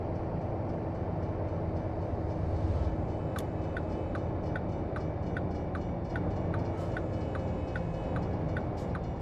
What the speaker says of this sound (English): Seems like every time I get to this red light, there's a train coming.